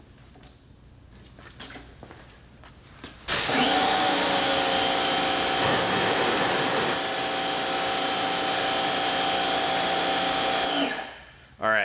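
A Wholesun 3000 PSI electric pressure washer starts after a few light clicks and handling noises, then runs with a loud, steady motor whine for several seconds before shutting off.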